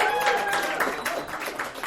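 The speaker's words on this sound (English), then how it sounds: "Another round of applause for Wild Joe." Comedy club crowd applause at a dive bar show, a short burst of steady clapping with a voice running over it.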